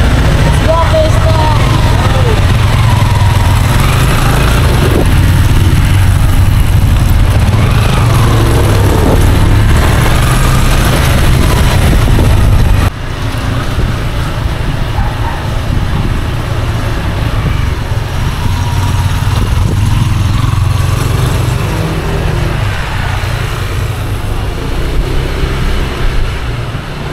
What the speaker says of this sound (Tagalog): Motor ni Kuya Estong.